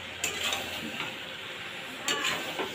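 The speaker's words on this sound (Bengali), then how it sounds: "এই ভেজে রাখা আলুটাকেও দিয়ে দেবো। দিয়ে ভালোভাবে মিশিয়ে নেব।" A spoon stirs fried potatoes into mutton cooking in a pan, a soft continuous sizzle with a couple of sharper scraping and clinking strokes against the pan, close and fairly quiet.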